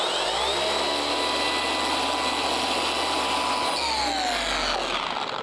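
Car polishing machine spinning a damp pad at its highest speed beside a bucket, a loud continuous motor whine holding steady with a brief dip near the end.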